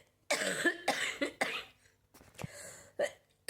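A series of harsh, close coughs in irregular bursts, several in quick succession, separated by short quiet gaps.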